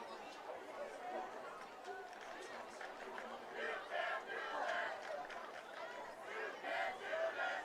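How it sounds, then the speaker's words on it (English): A Waupaca high school student section cheers and chants in unison at a football game against Fox Valley Lutheran, a rhythmic mass of young voices heard from a distance in a swelling, pulsing crowd roar. "We got some Waupaca student section here cheering, doing the old "you can't do that.""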